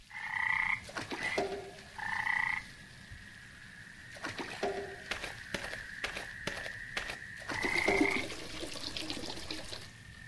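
Frogs croak beside a pond in the video game Memoranda. Several bright, repeated croaks come in short bursts among watery splashing and trickling sounds, close and clear, with no voices.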